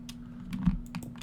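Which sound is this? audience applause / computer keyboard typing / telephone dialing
computer keyboard typing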